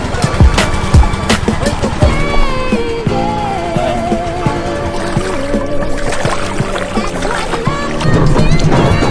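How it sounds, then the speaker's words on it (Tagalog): A bangka carries passengers away from Pandanon Island at dusk during a very low tide, giving a continuous loud rumble of water and hull with shifting droning tones over the whole ride. "Ito na yung bangka namin, guys."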